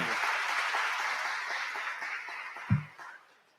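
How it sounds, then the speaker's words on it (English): Applause from a conference keynote audience welcoming Ron to the stage at DataCon LA, a dense, steady patter of many hands that fades out near the end, with a brief thump just before it dies away. "Round of applause for Ron."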